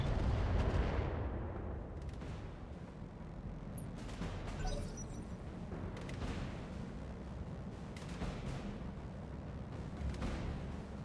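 Mech weapons firing on a building in the Roguetech mod of BattleTech: a continuous rumbling barrage of booms and impacts, steady and fairly loud throughout, with no talking.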